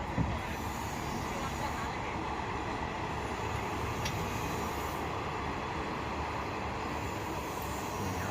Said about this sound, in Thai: เห็นรถไฟด้วยครับ รถไฟมาพอดีครับ